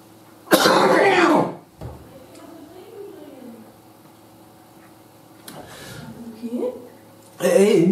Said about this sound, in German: Du hast gehustet, als wärst du gerade vom Stuhl